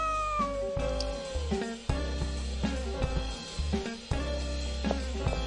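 Cats meow nearby in a series of drawn-out, rising and falling calls, several in a row with short pauses between them, fairly loud and clear.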